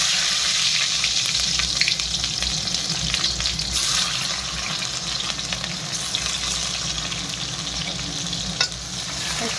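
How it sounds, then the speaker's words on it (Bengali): Onions fry in hot oil with cumin and bay leaves, a continuous loud sizzle with occasional stirring scrapes, close and steady throughout. "জিরে দিয়ে দুটো তেজপাতা দিয়ে দিলাম। তারপরে পেঁয়াজগুলো দিলাম।"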